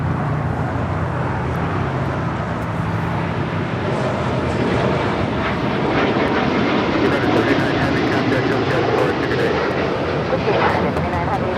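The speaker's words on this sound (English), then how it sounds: "This is United 39 departing to Tokyo, Haneda on the 787-10 Dreamliner." A United Boeing 787-10 Dreamliner departs Los Angeles International Airport for Tokyo Haneda with a loud, continuous broadband jet roar that holds steady throughout, and a voice is faintly present.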